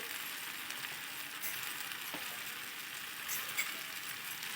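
Boiled pasta being mixed with a spoonful of chilli powder, giving a steady close-up hissing, scraping stir with a few faint clicks, no voices.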